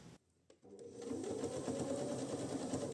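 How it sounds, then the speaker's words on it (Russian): A sewing machine stitches fabric bias binding onto a patchwork basket. After a brief quiet start it settles into a continuous close mechanical whirr with a rapid needle rhythm, and no one speaks. "Поворачиваю на игле, бейку закладываю под углом 90 градусов и продолжаю сшивать дальше."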